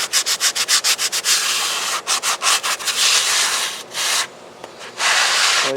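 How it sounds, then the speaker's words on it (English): Styrofoam on an Emirates 777-9X RC airliner model is sanded by hand in brisk rhythmic strokes, quick at first and then longer, with a couple of short pauses. The strokes are close and fairly loud. "Anytime you're sanding styrofoam, you just want to be as careful as you can"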